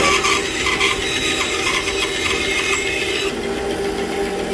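A 1983 Jet JBS-14MW variable speed bandsaw runs at maximum speed while cutting, a loud, dense rasping whir with a steady motor drone throughout, near and without speech.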